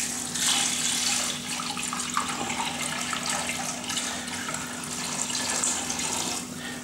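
Water pours in a steady, continuous stream into a cooking pot for fat-free chicken soup, filling it with about four litres, a constant close splashing rush and no talking.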